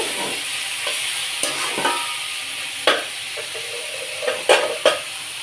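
Dried fish fries in a pan with a moderate continuous sizzle, punctuated by sharp scrapes and clinks of a utensil stirring against the pan, several close together near the end.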